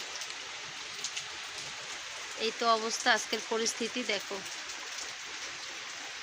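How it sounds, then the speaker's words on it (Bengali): Heavy rain pours outdoors, a steady wash of close hissing that runs through the whole stretch while someone speaks briefly over it midway. "এত পরিমাণে বৃষ্টি হওয়া লাগে"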